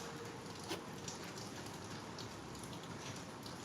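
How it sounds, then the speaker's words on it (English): Steady rain falls in a city, a soft even patter of drops with no gaps throughout, faint and continuous with no voices. "yes, it is raining."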